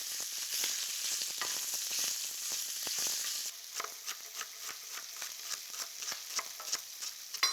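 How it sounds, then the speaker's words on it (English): Sausage browning in a frying pan for pasta, a close, bright sizzle with a spatula repeatedly scraping and turning the meat, the crackle settling into rhythmic stirring taps partway through. "I just want to make sure I get a nice even browning on the sausage"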